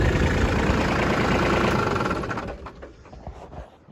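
Kubota B2601 compact tractor, a 26-horsepower diesel, idling at steady loud rumble for about two seconds before it is shut off and winds down to quieter sputters.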